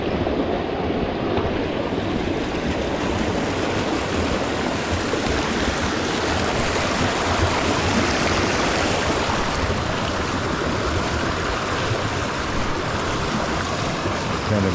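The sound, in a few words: water flowing down into a rock pool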